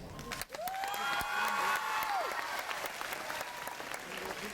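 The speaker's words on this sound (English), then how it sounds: "Please hold the applause until everyone is done." An audience at a middle school graduation applauds as teachers are recognized, a sustained burst of clapping with a voice speaking over it and a whistle-like tone sweeping through.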